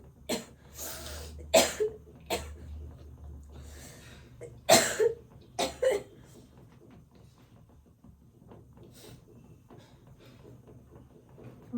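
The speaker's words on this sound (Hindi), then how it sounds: "बहुत जोर से खांसी हो गया है हमको" A person with a heavy cold coughs in a quiet room, with a cluster of loud, close, harsh coughs early on followed by a long stretch of faint rustling and near-silence.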